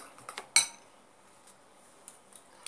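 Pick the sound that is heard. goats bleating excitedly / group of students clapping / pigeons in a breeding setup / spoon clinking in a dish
spoon clinking in a dish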